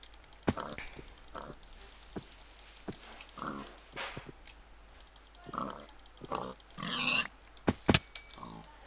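Pigs grunt and oink in Minecraft with short, scattered snorts amid clicks and game hits, some louder squeals near the end, quiet overall.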